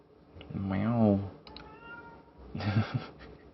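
A voice imitates a cat meowing, with one long drawn-out meow followed by a shorter, rougher one, heard close and fairly quiet.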